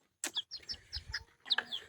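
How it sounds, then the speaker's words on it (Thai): Young fighting-cock chicks, about three months old, cheep and cluck close by in a rapid run of short, high calls with brief pauses between them. "นี่อันนี้ไก่น้อยไก่ต่อน้อยพี่น้อง"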